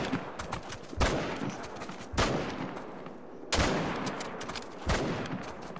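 Four loud, sharp hunting-rifle shots from theHunter: Call of the Wild, spaced about a second apart, each with a long rolling echo that tails off into the outdoor game ambience; no talking.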